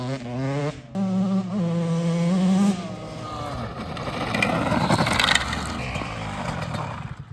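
A Yamaha YZ125 two-stroke dirt bike ridden after a fresh top end and piston change, its engine revving up and pulling away, buzzy and strong, with a brief voice near the start.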